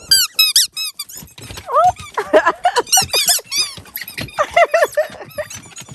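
Squeaky dog toys squeaked over and over in rapid bursts, loud and close, with dogs scrambling around them.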